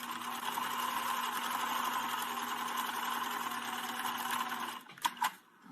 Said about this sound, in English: there we have the second seam sewn